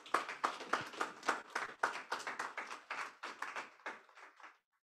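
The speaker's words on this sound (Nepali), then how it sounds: "एकछिन ताली बजाइदिनु उहाँको लागि।" A church congregation applauds an elderly servant of the Lord over seventy during a Bible school session. The bursts of clapping come dense and steady for about four and a half seconds, then stop abruptly.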